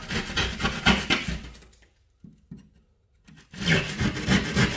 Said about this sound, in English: So now you take your keyhole saw, you go and cut this out.